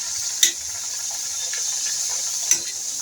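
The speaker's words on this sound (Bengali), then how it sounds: "ভেজে নিচ্ছি।" Coconut-filled puri fry in hot oil with a steady, bright sizzle and hiss, broken by two sharp spattering pops, close and without talk.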